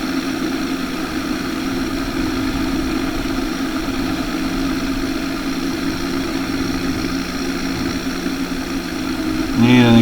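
A narrow front diesel tractor engine idles steadily with a constant low throbbing rumble and vibration, close by, rising slightly in loudness right at the end.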